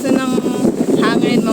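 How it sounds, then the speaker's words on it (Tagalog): Strong wind buffets the microphone on a small fishing boat at sea with a constant loud rumble, while someone talks over it. "napakalakas na ng hangin"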